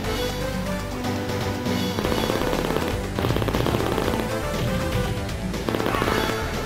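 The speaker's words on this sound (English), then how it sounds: "Machine gun!" Rapid machine gun fire from an arcade video game, a dense continuous rattle of shots with crashes and game music layered throughout, loud and steady across the whole stretch.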